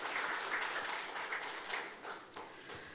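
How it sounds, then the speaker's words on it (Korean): Steady applause from a crowd at a political party's mayoral candidate joint speech event, moderately loud and continuous throughout, with no voices over it. "여러분 힘찬 박수 부탁드리겠습니다"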